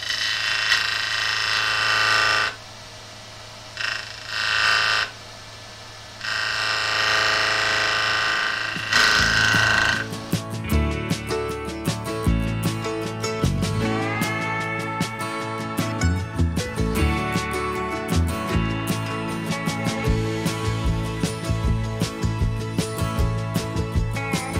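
A wood lathe spins a sycamore bowl blank while a tenon is cut: a tonal motor whine with brief pauses at first, then dense, chattering scraping of the tool biting the wood, close and sustained.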